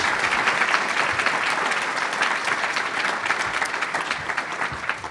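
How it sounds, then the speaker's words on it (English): Steady audience applause at a nature-based climate solutions conference session, dense many-handed clapping sustained and fairly loud throughout without pause. "So could I get a round of applause for our speakers?"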